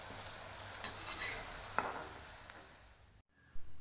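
Vegetables frying in hot oil until browned on both sides, a faint, even sizzle with a few light clinks of a utensil. The sizzle cuts off suddenly, followed by a brief knock.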